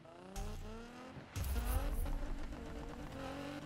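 2017 Nissan GT-R with 1154 bhp launching off the start line in Need for Speed: engine revs climb, then a hard roaring surge with rising harmonic whine as it pulls away, loud and close.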